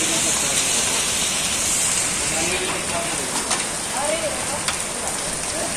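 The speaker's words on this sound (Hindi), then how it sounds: "कितना खतरनाक पानी आज बरस रहा है।" Heavy rain pours down in Lucknow as a dense, steady hiss of falling water, loud and close throughout, with a brief spoken word and faint voices underneath.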